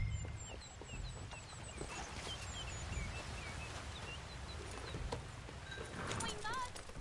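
Horse hooves clip-clop at a steady walking pace in Red Dead Redemption 2, moderately close, alongside faint birdsong and other outdoor ambience.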